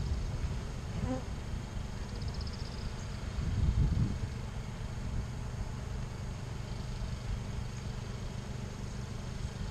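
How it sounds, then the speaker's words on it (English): Honeybees in a hive colony during a queen release check hum in a steady, low buzz throughout, with a brief louder swell from a bee passing close near the middle. "they're really buzzing in this colony right now"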